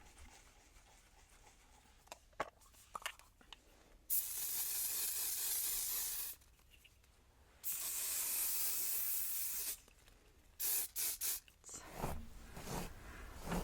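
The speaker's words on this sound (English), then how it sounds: "I am going to put some hairspray on them, okay?" Hairspray misted onto freshly curled hair in a quiet close setting: two long steady hissing sprays of about two seconds each, then a few short bursts, separated by faint handling sounds.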